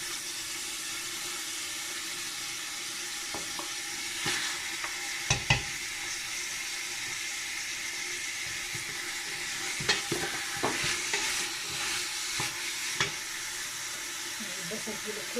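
Onions fry in a pan with a steady, even hiss of sizzling throughout and occasional scraping and clinks of stirring, fairly faint, with no one speaking.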